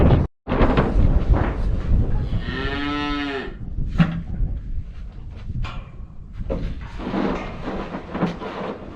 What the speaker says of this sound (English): she's going to grow up to be quite the big, healthy, meaty cow